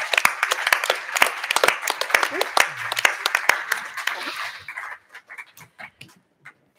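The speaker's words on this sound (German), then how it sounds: "Nochmal Applaus." Lively audience applause at an event, with sharp individual claps over a crowd and a voice briefly heard. The clapping fades into a few scattered claps near the end.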